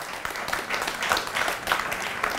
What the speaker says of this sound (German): da ist er mit warmem Applaus empfangen worden